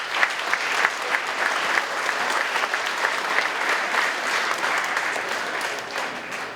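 Applause from an awards-ceremony audience, a steady dense clapping crowd that holds throughout and eases slightly toward the end.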